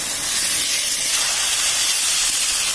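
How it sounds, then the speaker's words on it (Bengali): Vegetables and spices sautéed together in a pan give a loud, steady sizzling hiss that fills the whole stretch, heard close up with no talking. "একসাথে মশলার সাথে এইগুলোকে ভালোভাবে কষে নেবে।"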